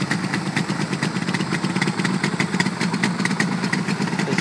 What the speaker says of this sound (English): This is Yamaha's two-cylinder twin two-stroke 400cc engine, 6-speed transmission.